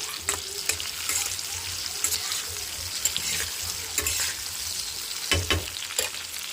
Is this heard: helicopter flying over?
no